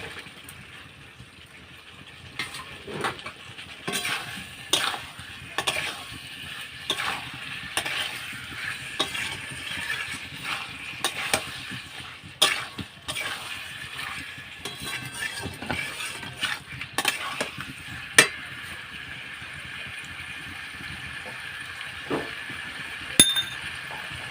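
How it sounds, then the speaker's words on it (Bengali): Fried potatoes being stirred into a bubbling fish curry masala, with a low simmering hiss under repeated utensil scrapes and occasional clinks, moderately faint and without talk. "মশলাটা কষা হয়ে গেছে, ফুটছে, আমি এবার ভাজা আলুগুলো দিয়ে দিচ্ছি।"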